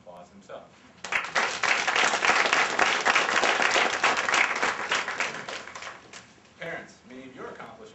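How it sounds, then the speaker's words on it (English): Audience applause for parents at a speech, a sudden loud burst of clapping that holds steady for several seconds, then tapers off as a voice resumes. "And for that, parents deserve an applause themselves."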